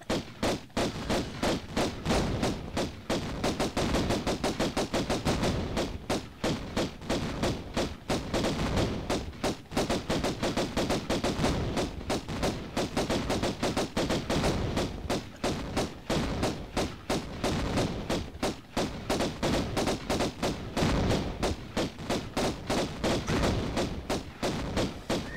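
Gunfire from the Tomb Raider I video game rings out in a long, dense, rapid series of sharp cracks and thuds, loud and continuous for the whole stretch with almost no pauses and no speech.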